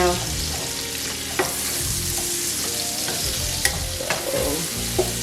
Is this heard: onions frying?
yes